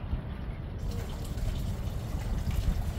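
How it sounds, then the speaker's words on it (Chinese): Air conditioner condensate dripping from upstairs units onto pooled water in a Wuhan residential compound, a steady trickling and splashing wash without pause. "看这空调滴水的情况"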